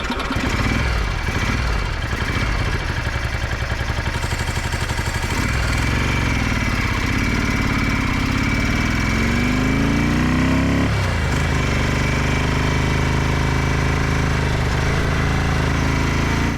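Ducati 750 F1 Santamonica motorcycle engine running steadily on the road, a loud continuous mechanical drone with shifting pitch as the revs rise and fall through gear changes, close to the recorder throughout.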